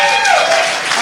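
An audience at a Hope & Serenity recovery group meeting claps for a member named Cliff. The applause is a loud, dense wash heard under people talking.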